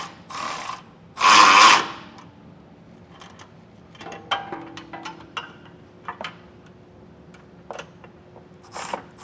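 Metallic ratchet clicks and scrapes from a 3/4 inch wrench and socket tightening bolts on a Class III trailer hitch on a 2012 Jeep Wrangler, scattered short ticks after a loud burst near the start.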